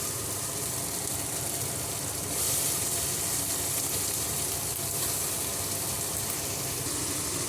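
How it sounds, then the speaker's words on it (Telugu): Potatoes and green peas frying in a pan for vegetable pulao give a steady, close, even sizzle with a soft watery hiss and a slight swell partway through, with no talking. "ఫ్రై చేసుకోవాలండి బాగా ఆలుగడ్డ, బఠానీ."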